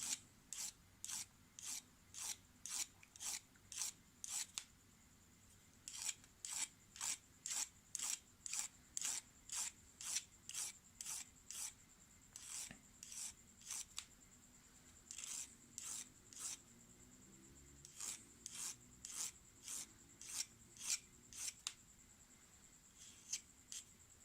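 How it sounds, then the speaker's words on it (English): A small file deburrs the outer edges of a cut 12 mm pipe, making rapid rhythmic rasping strokes in quick runs with brief pauses between them, close and fairly quiet. "Just get a small file here. Deburr the outer edges."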